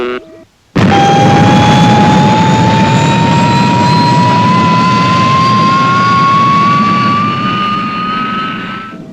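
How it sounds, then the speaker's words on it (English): The Fireball XL5 spacecraft's motors run at full power, a loud sustained roaring whine with a tone that rises slowly in pitch. It kicks in abruptly after a brief hush and holds steady to the end. "Full power, all motors. All the power, all the motors."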